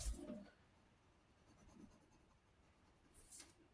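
A graphite pencil draws on paper in a travel sketchbook, making a faint, close scratching with soft irregular strokes over quiet background.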